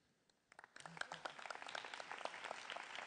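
An audience applauds an award recipient at an environment and borders event, clapping that starts sparse and quickly swells into steady, moderately distant applause.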